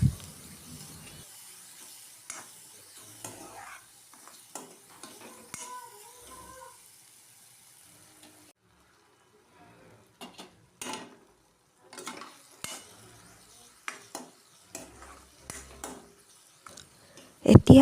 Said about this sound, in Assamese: গোটেইখিনি আকৌ অকণমান লৰাই ভাজি ল'লোঁ।